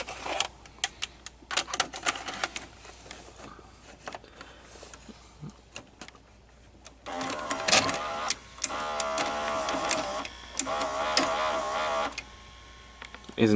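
Sanyo VCR motor turning a worm gear and cam gears, with clicking, ticking mechanical bursts and whirring motor runs, close-up and intermittent.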